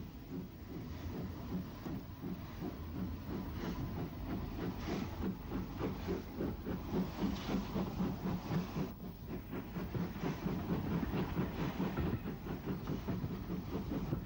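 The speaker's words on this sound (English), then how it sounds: "18 Ningwood makes a spirited departure from St John's Road in 1964." Steam locomotive 18 Ningwood pulls away hard from St John's Road on the Isle of Wight in 1964, its steady chuffing exhaust and hissing steam rolling on continuously, fairly close and loud throughout.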